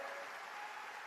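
An audience at a public water-conservation event applauds for Samrat Choudhary from Bihar, a soft, steady wash of distant clapping heard briefly and faintly.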